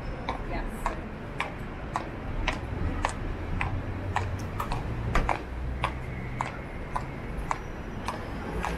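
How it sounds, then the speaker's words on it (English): Old shoes with worn-down heels clip-clop on a downtown Toronto sidewalk along Yonge Street, giving steady, sharp, close footstep clicks over street noise, while people talk nearby. "My shoes sound like a horse."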